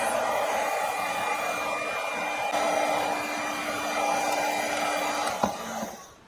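A handheld embossing heat tool blows hot air over embossing powder on a card, making a steady, loud whooshing hum with a faint click near the end before the sound drops away.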